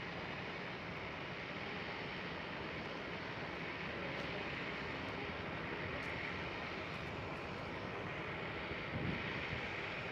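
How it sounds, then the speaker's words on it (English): An Emirates Boeing 777-300ER jet on approach to runway 24 at Amsterdam Schiphol gives a steady, broad engine roar that holds evenly throughout and swells slightly near the end. "The big plane coming up. Emirates 777"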